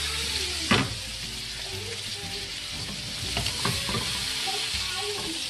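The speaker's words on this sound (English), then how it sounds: "So this is the part where we really caramelize the steak." Steak frying in butter in a pan, a steady loud sizzle with a few sharp spatters and stirring scrapes, continuous throughout.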